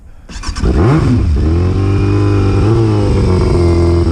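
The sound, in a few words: motorcycle engine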